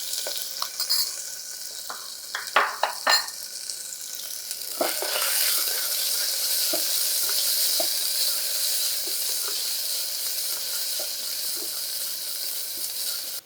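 Onion frying in hot ghee for khichdi: a few clattering stirs, then a steady, loud, close sizzle that hisses on without a break.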